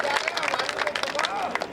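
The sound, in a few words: audience applause at a Hindi comic poetry gathering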